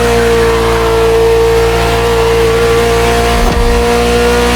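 Ferrari sports car engine in The Crew Motorfest racing game, a loud steady drone with strong harmonic hum held throughout, a brief dip and surge near the end, no talking.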